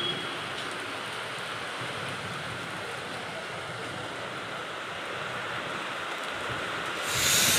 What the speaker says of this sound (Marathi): बघा किती पाऊस येऊ राहिला आता